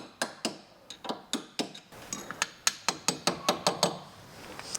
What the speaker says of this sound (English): what's the reason for the hammering there?